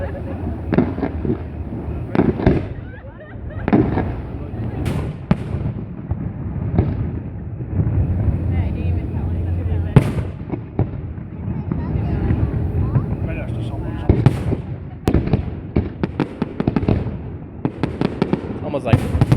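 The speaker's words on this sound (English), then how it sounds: "Different use of the fireworks." Fireworks burst over the water at Casino Lac-Leamy in a Greece-themed display, with repeated sharp bangs and crackles at irregular intervals, some loud and close, while people talk nearby.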